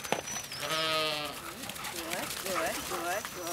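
Sheep bleat in several wavering calls one after another, close by, during a herding outing, with a short whistle at the start and a voice mixed in among the animals.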